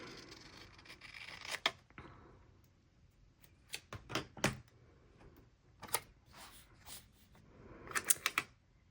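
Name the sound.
trimming a planner sticker sheet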